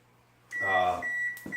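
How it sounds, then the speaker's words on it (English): A microwave oven starts up with a loud hum and a bright steady tone, then gives a short click or beep near the end, heard without any talk. "Now we're going to melt this in the microwave."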